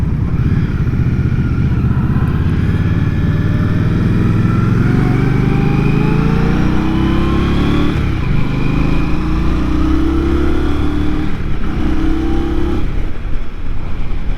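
Indian Scout Rogue motorcycle accelerating hard, the engine note climbing through several gears with brief dips at each shift, loud and close, no talking.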